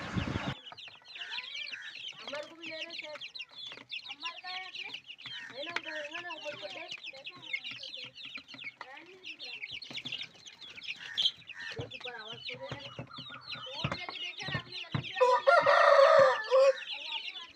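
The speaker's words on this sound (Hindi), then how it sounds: "ये मुर्गा है" A rooster clucks repeatedly in short bursts, with more birds chattering nearby, ending in a loud crow close to the listener.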